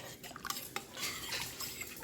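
Beef stroganoff being stirred in a slow cooker pot, a quiet run of spoon clinks and scrapes against the pot with a gentle wet churning.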